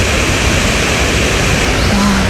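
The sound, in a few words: waterfall (Guseong Falls) rushing water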